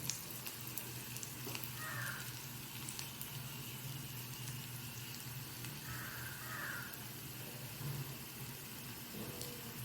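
Chopped onions sauté in hot oil in a pan, cooked to medium for the tempering of a turkey berry sambar, giving off a steady, even sizzle with no voices.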